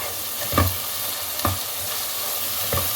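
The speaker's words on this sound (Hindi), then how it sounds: "इसको मसाले को भी इसमें भून लें।" Whole spices, cinnamon, cloves, black and green cardamom and star anise, frying in oil with garlic and ginger for keema pulao, a steady close sizzle broken by three spaced spoon scrapes.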